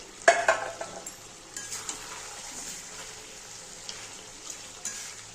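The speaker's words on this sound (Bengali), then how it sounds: "এবার আমি আলুটা ভেজে রেখেছিলাম, আলুটা দিয়ে দিচ্ছি।" Fried potatoes are dropped into a pan of spiced chicken kosha, giving a sharp opening clatter and then a low steady sizzle with soft scraping stirs and occasional light clinks of a utensil against the pan.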